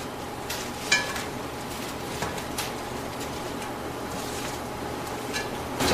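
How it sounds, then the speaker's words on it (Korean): Fried chicken pieces and sweet potato being tossed together and plated in a kitchen, giving steady soft stirring and scraping with a couple of light clinks of utensils against a dish, close and moderate. "튀겨놓은 닭과 고구마를 고루고루 섞어서 접시에 담아 주시면 됩니다"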